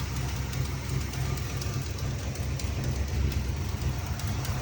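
A 1977 Chevrolet El Camino's carbureted engine runs with a steady, even rumble, close and continuous, with a driver's-side collector or header gasket leak.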